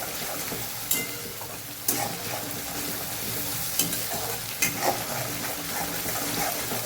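Chopped onions sauté in a hot pan with a steady, close sizzle, broken by a few sharp scrapes and clanks as a spoon stirs them.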